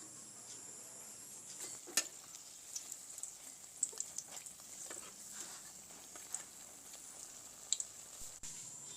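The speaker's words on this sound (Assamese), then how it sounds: "এতিয়া ৰঙালাওৰ ফুলৰ বৰা দুটা ফাল এনেকৈ ওলোটাই ৰং যোৱা হোৱালৈকে ভাজি ল'ম" Gram-flour-battered pumpkin flower fritters fry quietly in a pan over low gas flame, a soft steady sizzle dotted with small pops and faint crackles throughout.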